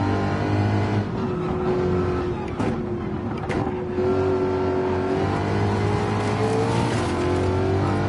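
A race car engine drones steadily in a racing video game, a sustained, moderately loud tone with slight pitch shifts as it accelerates, running continuously without talk.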